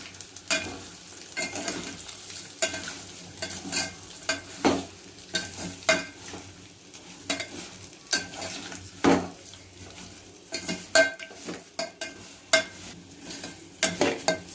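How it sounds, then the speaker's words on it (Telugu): Vermicelli (semiya) fries in a pan for halwa while a spoon stirs it steadily, giving a continuous close sizzle with repeated scraping and clinking against the pan and no talk. "ఆ తరువాత 2 కప్పులు సేమియాను తీసుకొని సేమియాను కానీ దోరగా వేపుకోవాలి"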